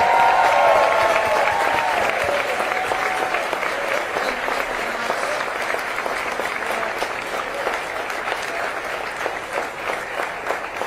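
A large crowd at a Kamala Harris political rally in Pennsylvania applauds loudly and continuously, a dense, steady wash of clapping with cheering that eases slightly over time.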